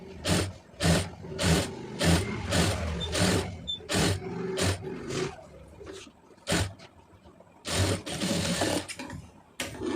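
A sewing machine runs in repeated short bursts while stitching the edge of a blouse, loud and close, with brief pauses between runs of stitches and no talking.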